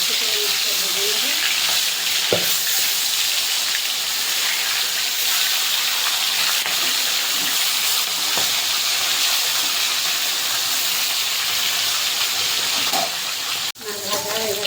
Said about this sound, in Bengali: একটু হালকা লালচে করে মাছটা ভেজে নেবে